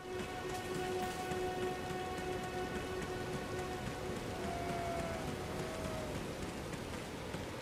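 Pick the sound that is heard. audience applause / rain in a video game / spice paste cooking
rain in a video game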